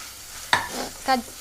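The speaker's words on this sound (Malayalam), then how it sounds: "ഇപ്പം നമ്മൾ തക്കാളി ഇടുവാനേ" Tomatoes drop into a hot pan for a Tamil Nadu style chicken curry, giving two short sizzling, stirring bursts close up, fairly quiet and without talk.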